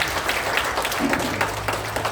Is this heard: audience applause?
yes